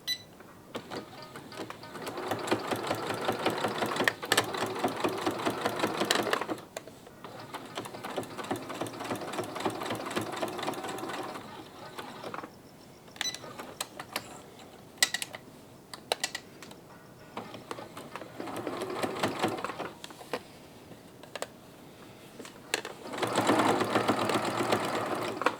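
A sewing machine sewing trouser pocket bags with a long stitch length runs in several sustained bursts of rapid mechanical clatter, separated by short pauses and small clicks, close and fairly loud.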